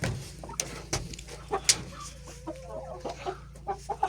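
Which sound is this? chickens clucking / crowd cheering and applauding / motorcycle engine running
chickens clucking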